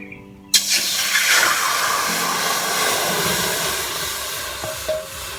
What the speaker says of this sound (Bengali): কড়াইতে দিয়ে দিচ্ছি জল